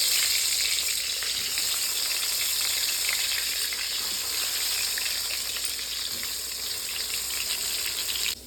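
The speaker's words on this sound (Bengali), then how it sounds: "তো এখন আমি বেগুনটা ভাজা বসিয়ে দিই" Steady, loud sizzling of eggplant frying in hot oil in a pan, a continuous crackling hiss with no voices.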